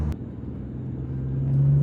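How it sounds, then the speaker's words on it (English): A Dodge Stealth 3000GT with a new front pipe revs, its engine note rising and growing louder over a short stretch, close and without talk. "When you get on the gas, it just sounds like it's kind of revving up smoother and the engine's just running a little bit smoother."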